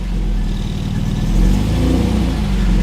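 Close, steady running of an MGB GT's 1.8 litre B series engine through a stainless steel exhaust, a low throaty idle rising into a brief rev midway, with no talk over it.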